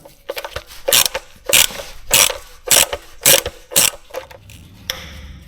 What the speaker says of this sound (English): going to actually remove the oil level sensor by undoing the three 10mm nuts